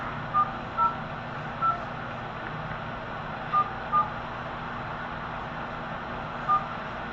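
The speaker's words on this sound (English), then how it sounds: "So I'm going to check it just by dialing the number and seeing if it comes up." Six short telephone keypad tones sound at uneven intervals as a phone number is dialed, each a brief clean beep over a steady low background hum.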